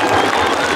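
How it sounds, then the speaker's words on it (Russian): Spectators at an air show applauding, a brief, fairly loud wash of clapping from a crowd that fills the short moment without break. "Аплодируем!"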